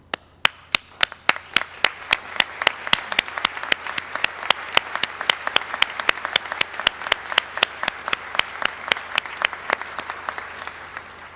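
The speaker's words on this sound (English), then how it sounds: "Will all of the search committee persons present please stand and receive our applause." An audience at a university presidential inauguration applauds the search committee as they stand, with crisp, rhythmic clapping from a nearby person over a broad, steady round of applause from the crowd.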